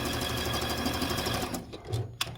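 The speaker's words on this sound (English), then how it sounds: "we will sew this down now with the little brace" Sewing machine stitching a snowman quilt, a rapid rhythmic clatter of the needle running steadily up close, then slowing into a few separate mechanical clicks at the end.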